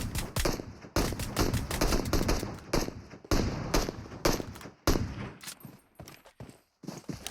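Rapid bursts of gunfire from a PUBG Mobile battle-royale match in a league finals, with dense clustered shots and rattling volleys running almost continuously, then thinning into a few scattered cracks near the end.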